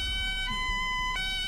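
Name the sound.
ambulance siren in the video game BeamNG.drive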